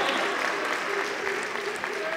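A crowd at an MMA event applauds the winner of the evening's first fight after a submission victory, sustained dense clapping throughout with an announcer's voice over it.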